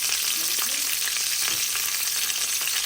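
Tomatoes fry in a little oil for a pork dish, a dense, even sizzle that stays loud and close throughout with faint stirring movements underneath.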